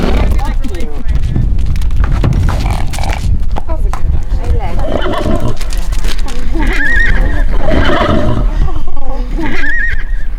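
A horse neighs and whinnies loudly at close range, with hooves clopping around it and people talking and reacting excitedly over the sounds.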